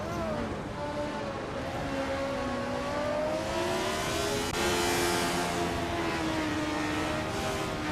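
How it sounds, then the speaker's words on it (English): A Wolf Williams FW05 race car in a video game, its engine whining steadily with rising and falling pitch as it shifts, loud and continuous throughout. "Ingle McCringleberry is driving a Wolf Williams FW05"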